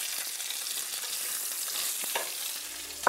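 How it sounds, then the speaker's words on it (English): Shallots and onions sauté with bay leaves and black pepper in a hot pan, giving a steady close sizzle and frying hiss with a few light stirring scrapes near the end. "we'll saute shallots with onions and bay leaves and black pepper for about I would say 3 to 5 minutes"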